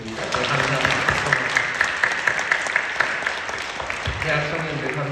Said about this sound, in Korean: 사랑하는 마음으로 한번 박수해 주셨으면 좋겠습니다